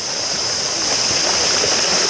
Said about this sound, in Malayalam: ഇവിടുന്ന് ഒഴുകിയിട്ടാണ് അവിടത്തേക്ക് വെള്ളം പോകുന്നത്.